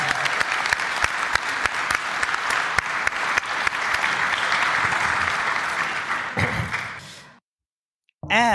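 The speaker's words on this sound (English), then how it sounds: "Let's give him a big round of applause." A live event audience gives a big round of applause: several seconds of steady, full clapping that cuts off into silence before a sudden thump.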